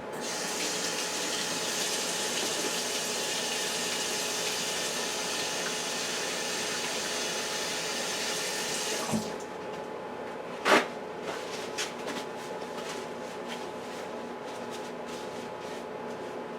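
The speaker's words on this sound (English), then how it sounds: "so let me wash my hands." Kitchen tap running steadily as hands are washed, a close hissing stream for about nine seconds before it shuts off, followed by a brief clunk and small handling noises in a quiet room.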